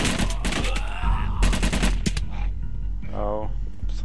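Gunfire in the VR shooter Covert Syndrome, rapid bursts of sharp shots in clusters, loud and close, with a voice and in-game radio chatter in between.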